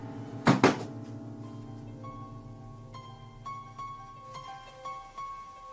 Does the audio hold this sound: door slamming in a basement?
yes